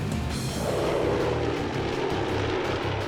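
A 40-year-old CL-215 amphibious water bomber propeller aircraft drones steadily overhead, its engine roar loud and continuous with a low rumbling throb.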